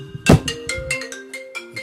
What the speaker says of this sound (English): He keeps fucking ringing me like I can't tell him to stop.